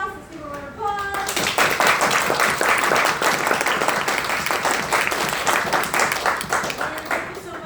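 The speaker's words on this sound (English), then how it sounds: "Let's give a round of applause." After a brief voice, an audience at a Toastmasters training workshop breaks into sustained applause, a dense, steady clapping that continues at full strength to the end.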